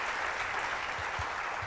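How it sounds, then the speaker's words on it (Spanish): A church congregation applauds during a service, a steady, dense wash of clapping that holds evenly throughout with no talking. "Dele un fuerte aplauso al Señor, por favor."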